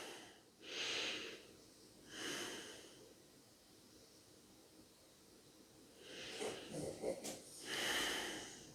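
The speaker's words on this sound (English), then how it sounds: "We go within, take a deep breath." A few deep breaths drawn in and let out close by, with soft airy bursts separated by quiet gaps and a longer, rougher exhale near the end. No talking.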